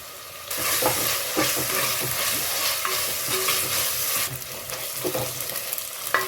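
Close, busy sizzling of onion and greens tempering in hot oil, with repeated scrapes and knocks of a spoon stirring the pan throughout.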